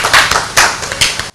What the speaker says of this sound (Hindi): तालियों के माध्यम से स्वागत कीजिए